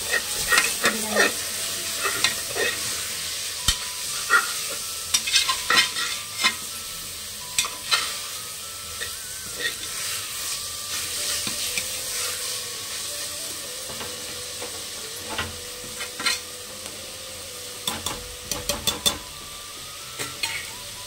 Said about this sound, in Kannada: ಇದನ್ನು ಎಣ್ಣೆಗೆ ಚೆನ್ನಾಗಿ ಫ್ರೈ ಮಾಡ್ಕೋಬೇಕು